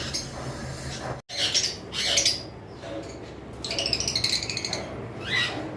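Fischer's lovebirds in a breeding cage, one moving in and out of the nest box, give loud, harsh squawks and shrill chirps in repeated bursts, with a brief silent gap early on and busy overlapping calls toward the end.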